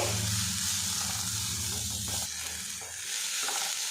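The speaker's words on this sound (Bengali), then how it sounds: "এবারে এর মধ্যে দিয়ে দেবো গাজর আর আলু কিছুক্ষণ এটা নাড়াচাড়া করে নেব" Grated raw carrot and potato stir-fried in a pan, giving a loud continuous sizzle with scraping stirring that fades and thins toward the end.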